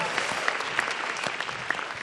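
An audience at a comedy grand final breaks into dense, steady applause, with continuous clapping heard close and full and a few sharper individual claps standing out.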